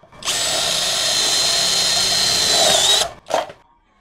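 A DongCheng DCJZ2040i13 cordless impact drill whines loudly at steady high speed for about three seconds, stops, then gives one short extra burst close up, with no talking.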